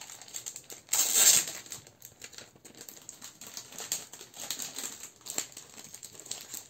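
Crisp paper crinkling and rustling as a gift package is opened, with one louder crackle near the start followed by lighter intermittent rustles and small clicks, close and fairly quiet.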